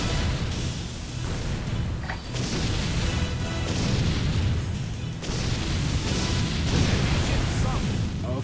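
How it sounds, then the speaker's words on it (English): Ship guns fire in the naval combat game Warship Gunner 2, sending heavy booming volleys that come in several loud bursts over a continuous rumble of battle noise. "I'm pounding him with my guns"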